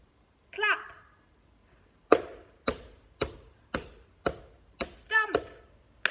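A group claps hands in unison during a drama game: about seven sharp, crisp claps in a steady rhythm, with a short spoken voice before the claps and another voice partway through them.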